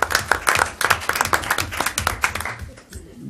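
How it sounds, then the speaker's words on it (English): A small group at a school board meeting gives a short round of applause, sparse distinct hand claps close by that thin out and fade after about three seconds. "we need to give Tracy a round of applause for that"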